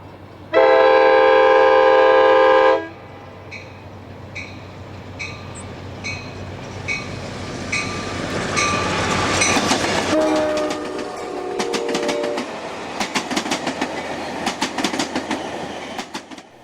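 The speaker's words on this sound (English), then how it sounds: "the train rolls along this picturesque causeway as it heads into Alviso" ACE passenger train rolling along a causeway toward Alviso, a long loud horn blast at the start, then steady rail rumble with rhythmic clickety-clack of wheels over joints building as the cars pass close by.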